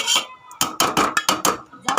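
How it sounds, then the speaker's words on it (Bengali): Metal spoon scraping and clanking against a cooking pot as food is stirred, a run of quick, close, loud clinks in an irregular rhythm, with a lid set back on at the end; no talking. "একটু নেড়ে ঢাকনাটা আবার চাপা দিয়ে রাখলাম।"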